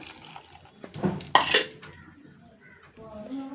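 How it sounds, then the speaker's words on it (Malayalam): Water rinsed from a mixer jar is poured into a cooking pan while making a coconut peera dish, giving a short splashing pour amid light clinks of kitchenware. "ഒരല്പം വെള്ളം കൂടെ ഈ മിക്സിയൊക്കെ കഴുകിയിട്ട് ഒന്ന് ഒഴിച്ചു കൊടുക്കാം"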